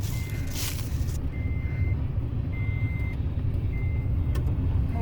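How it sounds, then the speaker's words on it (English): A pickup truck's loud, steady engine rumble from inside the cab, with a repeating high reversing-style beep sounding several times. "We're in his truck heading over to get mine so we can get out of here"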